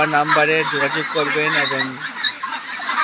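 Pekin Star 13 ducks, about three kilograms each, call with nasal, honking quacks in quick bursts, close by, mixed with someone talking over them.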